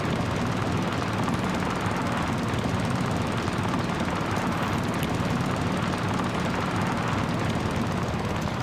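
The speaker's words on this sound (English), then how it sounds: "It's another thing on a little tiny mower like this. Whoa, this thing gets up and goes." Small riding mower engine in Farming Simulator 22, a steady droning buzz held at constant pitch, close and continuous with no talk.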